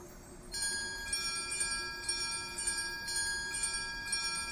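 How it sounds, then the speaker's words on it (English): Extraction bell in the video game Mistfall Hunter ringing out in a steady series of bright, sustained metallic strikes, each tone lingering and overlapping the next, over a low ambient rumble. "When you want to extract, you gotta ring one of those bells"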